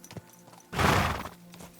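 Horse in Kingdom Come Deliverance 2 on a countryside road, a burst of hoof clatter and a whinny rising suddenly and loud, then fading, with faint game ambience around it.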